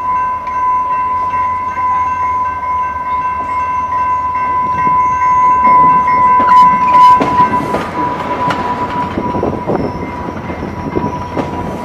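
A Rail Runner commuter train rolls along the rails on the run to Santa Fe, a loud continuous rumble with rhythmic clickety-clack and steady tonal whine, building in intensity midway; no talk.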